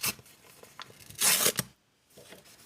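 A red paper surprise bag is torn open in a few short rips, the loudest a bright, crackling tear near the end, followed by a brief silence and a faint rustle.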